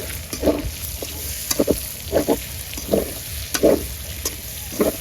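Onions sizzle in hot mustard oil for a Bihari chicken dish. A steady frying hiss runs throughout, broken by regular spoon-stirring scrapes about every half second.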